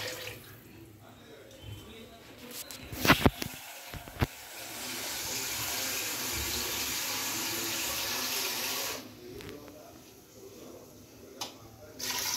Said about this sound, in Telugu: సో నేను ఓన్లీ 5 గ్లాసెస్ వాటర్ పోస్తున్నాను